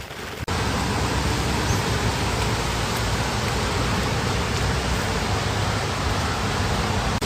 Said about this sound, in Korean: 비가 끝일 생각이 없네요